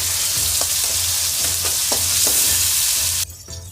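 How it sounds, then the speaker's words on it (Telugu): Tomatoes fry in hot oil with garlic in a pan for a fenugreek seed sambar, a loud steady sizzle broken by a few utensil scrapes and knocks before the hiss drops away near the end. "ఇది కొంచెం ఫ్రై అయినాక టమాటాలు వేసుకోవాలా."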